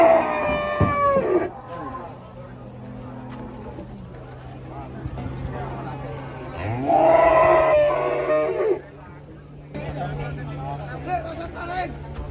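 A tailless cow being unloaded from a truck lets out a couple of loud, drawn-out moos, one at the start and another midway, with people talking over a steady low hum in between.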